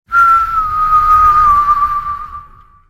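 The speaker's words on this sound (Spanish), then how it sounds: "Una ráfaga de viento frío sopló a su alrededor con un leve sonido silbante" A cold gust of wind gives a steady, thin whistle at one pitch, holding for a couple of seconds before fading away.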